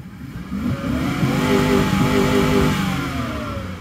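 A supercharged 5.3 V8 in a high-mileage Chevy Avalanche revs hard and holds near the top of its range, a loud, close, sustained engine roar whose pitch climbs and then eases off, with no talking.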